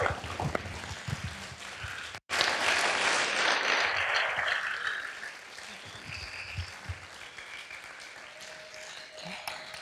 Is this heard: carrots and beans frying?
no